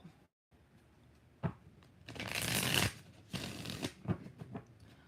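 A deck of tarot cards is shuffled up close, a sustained papery riffle in the middle followed by a handful of shorter snaps and rustles.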